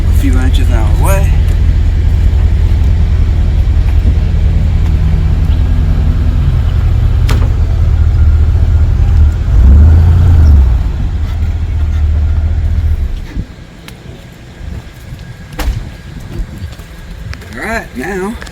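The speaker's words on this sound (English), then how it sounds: "Pull the truck up a few inches out of the way." Pickup truck idling and creeping forward a few inches after unhitching from an RV at a campground, a loud low engine rumble that swells briefly, then drops away, with talk over it.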